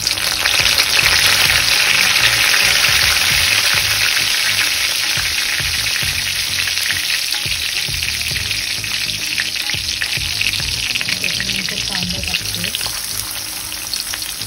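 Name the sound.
onion frying with garlic and curry leaves in a pan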